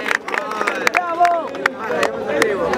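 A crowd claps and cheers after a freestyle rap battle at an outdoor plaza event, brief scattered applause mixed with loud overlapping voices and shouting.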